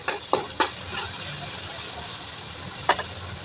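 Onions and tomatoes sizzling loudly in a pan, a dense steady hiss with a few quick scraping stirs near the start and one more toward the end.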